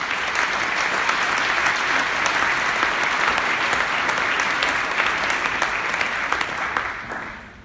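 Loud, sustained applause from a conference audience for panelists at a public health closing plenary, many hands clapping in a thick continuous roar that tapers away in the final moment.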